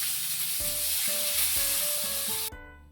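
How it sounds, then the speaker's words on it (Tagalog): Close-up sizzle of dried fish frying, a constant hiss of hot oil with a few clanking, ringing tones from a pan, ending abruptly. "Prito po muna tayo ng daing."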